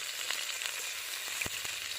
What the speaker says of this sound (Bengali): কড়াইয়ের মধ্যে অল্প তেল ছিল মাছ ভাজা তার মধ্যে আরেকটু তেল দিলাম